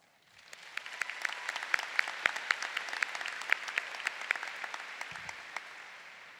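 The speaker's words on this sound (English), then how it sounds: "I think that calls for a big round of applause." Graduating class and audience at the 2022 Oxford High School graduation in Mississippi break into a sustained round of applause, dense steady clapping from a large crowd heard from a distance, with no talk over it.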